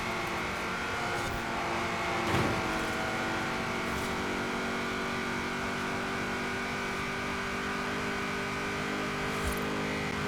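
A Cadillac limo's engine drones steadily in Forza Horizon 4 online racing, a continuous moderately loud hum with little variation throughout, no talk over it.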